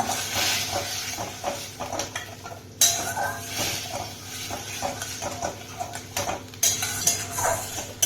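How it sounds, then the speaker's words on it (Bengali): Chutney being stirred in a pan, with a spoon scraping and clinking against the metal in irregular strokes over a low cooking hiss, close and fairly clear, with no talk. "এবার চাটনিটাকে সুন্দর করে নাড়ব"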